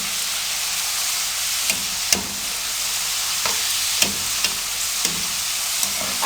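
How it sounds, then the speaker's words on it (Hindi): Potato chips deep frying in oil over a medium flame, a dense steady bubbling sizzle close by, with occasional sharp clicks as a strainer turns them. "अब मीडियम फ्लेम पे हम इनको 3 मिनट फ्राई करेंगे।"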